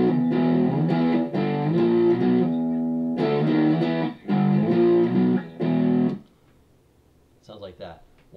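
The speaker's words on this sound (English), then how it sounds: "With how I play it with the whammy is heel down, so I get the octave below, and it sounds really deep." An electric guitar plays a riff through a whammy pedal set an octave down, giving a deep, distorted tone in loud chugging bursts with short gaps, then faint scratchy noise at the end.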